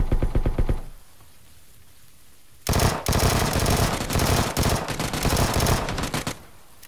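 Rapid automatic gunfire in the battle royale game PUBG, loud and close, with a short burst at the start, a quiet gap, then long sustained volleys of rattling shots.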